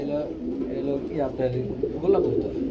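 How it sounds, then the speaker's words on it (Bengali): Round pigeons, among them a male, coo in soft low rolling phrases close by, with murmuring voices and background chatter mixed in. "গোল্লা কবুতর, একদম ট্যাম না ভাই, খুব সুন্দর।"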